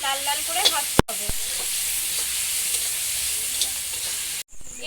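Spices sizzling and frying in hot oil with salt, turmeric and cumin powder for egg chicken chowmein, a steady loud hiss with a couple of sharp utensil clicks near the start and a brief break near the end.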